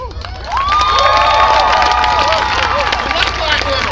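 Rally crowd at a protest against police brutality and systemic racism cheers loudly and continuously for black women, a dense roar of shouts and whoops rising after a brief quieter start.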